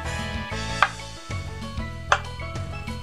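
A knife cuts through tofu on a board for miso soup, making a few distinct dull taps spaced about a second apart, up close with no talk.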